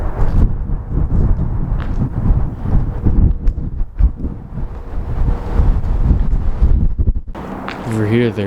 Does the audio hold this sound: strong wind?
yes